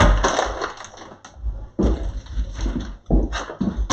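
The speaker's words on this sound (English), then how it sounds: "The ice need to be crushed" Ice for a gin mojito is crushed in loud, close bursts of grinding and cracking, broken into several separate crunches with short gaps between them.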